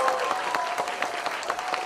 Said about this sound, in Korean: 이 무대 위에 계신 분들께도 큰 박수 함께